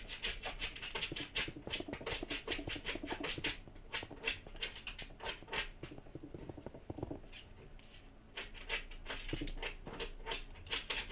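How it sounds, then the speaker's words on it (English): A little puppy scratches and scrabbles at the floor indoors, with soft irregular pattering, small whimpers and panting mixed in, fairly close and steady over several seconds. "I hear one of the little puppies digging at the floor or something."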